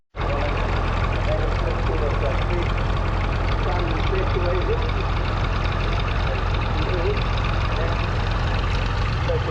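A vintage petrol-paraffin David Brown tractor engine runs at the Glamis Extravaganza show in Scotland, a steady, loud, low rumbling idle that continues throughout with faint voices in the background.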